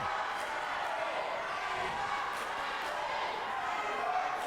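Split crowd at the RCW Heavy is The Crown wrestling show, a steady murmur and roar of many voices with faint scattered shouts, moderately loud and constant.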